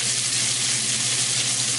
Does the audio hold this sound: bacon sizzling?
yes